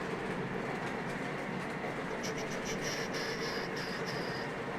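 Model train running on a home layout, a steady close rolling rumble with light metallic clicking and faint squeals, continuous throughout without talk.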